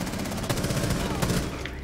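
Rapid gunfire from a tactical shooter video game, dense bursts of shots over a steady roar, with a voice talking underneath.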